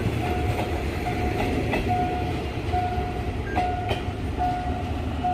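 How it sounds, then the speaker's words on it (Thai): An empty Alsthom 4150 train passing a level crossing, a loud continuous rumble with rhythmic wheel clatter and a warning bell tone ringing repeatedly throughout. "แต่เราไม่เห็นขบวน 9 เลยเพราะรถเปล่ามา สวนทางกันเลยครับ"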